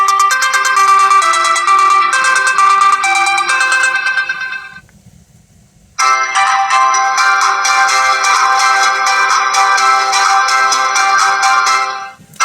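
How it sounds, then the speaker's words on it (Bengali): An RFL Parton Blast 3D button phone plays its ringtone loud and close, a bright electronic melody that runs for about five seconds, pauses briefly, then resumes and continues to the end. "আমরা চলুন একটু দেখি যে ফোনটির রিংটোনের সাউন্ড কেমন ছিল"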